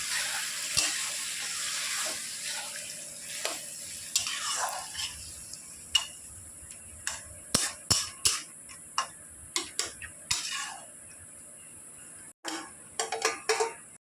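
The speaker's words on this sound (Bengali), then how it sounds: "এখন আমার কষা হয়ে গেছে, তাই আমি এখন গরম জল দিয়ে দিচ্ছি" Hot water poured into a pan of sizzling ash gourd curry, a hiss followed by a quieter simmer with scattered sharp clicks and clinks of a spoon against the pan, close and intermittent, no voices.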